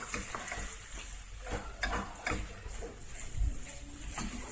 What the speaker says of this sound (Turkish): Güzel bir çiğ kalmayacak şekilde kavuruyoruz arkadaşlar